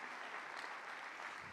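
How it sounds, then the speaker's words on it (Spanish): A church congregation applauds in a steady, distant wash of clapping that blends into a continuous rustling roar, heard without any talk over it. "Alguien aquí le puede dar un aplauso a Dios."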